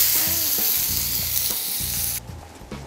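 Tomatoes sizzle loudly on a grill pan, a steady hissing fry with faint clicks and stirring knocks underneath, cutting off abruptly near the end.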